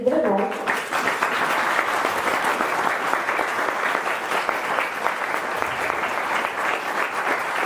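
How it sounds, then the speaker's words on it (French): Listeners at the closing concert of an intensive music course in Saint Sauves applaud the musicians with a sustained, dense round of clapping, after a brief voice at the very start. "je crois qu'on peut encore une fois les applaudir très très fort parce qu'ils le méritent vraiment"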